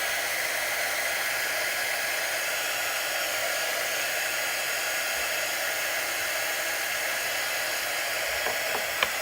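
A hair dryer blows steadily on a wet tea towel, a close, continuous whooshing roar that holds an even level throughout with no talking.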